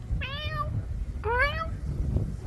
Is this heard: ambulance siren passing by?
no